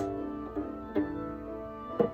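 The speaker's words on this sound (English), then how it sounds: "the rubber band is stretched out and you pluck it, it creates a sound" A stretched rubber band plucked a few times, each twang giving a soft low buzzing tone that hums on between plucks, close and quiet.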